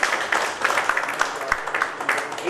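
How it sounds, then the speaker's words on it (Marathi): A crowd applauds a speaker at a talk on organic farming and the environment, a dense, steady patter of many hands clapping with scattered sharper claps throughout. "सरांसाठी जोरदार टाळ्या देऊया"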